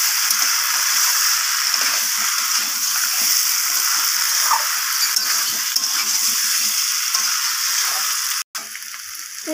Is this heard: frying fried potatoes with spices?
yes